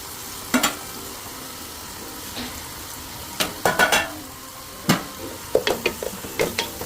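Ginger sautéing in a pan for upma, with a low steady sizzle under scattered scrapes and clinks of a spoon against the pan, several sharp knocks bunched toward the end.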